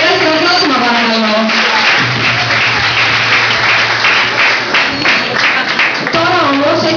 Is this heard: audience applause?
yes